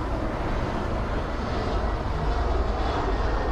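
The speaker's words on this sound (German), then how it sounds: "Und auf der Nordwestbahn landet Discover Airlines A330 aus Orlando." Steady broadband roar of an Airbus A330 airliner landing on the northwest runway at Frankfurt airport, a continuous jet engine rumble that stays fairly loud and even throughout, with no voices.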